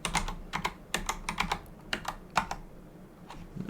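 Close typing on a computer keyboard, quick irregular bursts of clicking keystrokes with short pauses in between, no voices.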